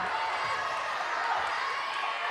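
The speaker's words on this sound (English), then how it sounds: "The crowd has come alive here in Bruin Fieldhouse." A basketball crowd in Bruin Fieldhouse roars during a women's championship game, a dense, steady wash of cheering and noise that stays loud throughout the short stretch.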